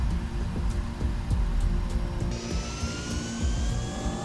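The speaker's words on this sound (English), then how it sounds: "The giant plane slowly taxied on the runway, then gradually ascended, blending into the vast sky" Passenger jet taxiing and taking off from a runway, a loud roaring engine rumble with a rising whine that climbs steadily in pitch as thrust builds, continuous and close.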